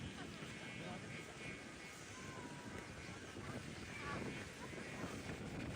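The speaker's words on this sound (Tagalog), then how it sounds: "Sobrang lakas ng hangin mga kaborbot, napakalakas talaga." Steady rushing wind buffets the microphone while a kite flies, a constant low roar with gusts swelling near the end.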